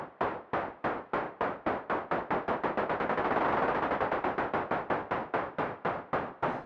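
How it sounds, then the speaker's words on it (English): An analog noise preset on the Diva synthesizer, shaped into rapid rhythmic bursts of noise that speed up into a dense wash and then slow back into evenly spaced pulses, loud and alone. "instead you can put a synthesizer that plays a preset like this analog noise preset on Diva"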